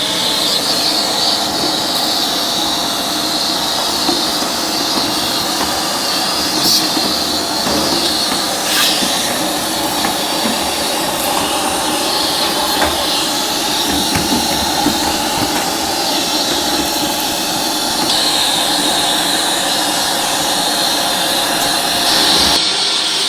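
A vacuum cleaner runs steadily while sucking dust off the badly clogged condenser coils of a Jenn-Air refrigerator, a loud, continuous whooshing roar with faint scraping shifts as the nozzle moves.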